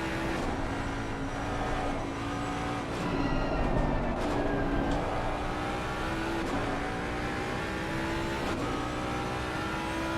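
On-board engine note of a Jaguar GT3 racing car lapping the Nordschleife in a racing game, a continuous loud drone with revs climbing and dropping through gear changes and occasional sharp shift blips.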